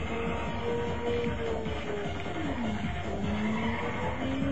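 Ridge Racer car tires squealing as the car drifts sideways, a sustained skid whose pitch bends and slides, running continuously over a constant engine roar, with no one talking.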